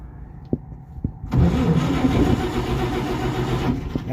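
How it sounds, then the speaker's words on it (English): A 1951 GMC 6800 Holmes 525 wrecker tow truck engine turning over: a few faint knocks, then the engine catches and runs with a loud, rough, steady rumble for several seconds. "The tow truck's first turnover, guys and gals."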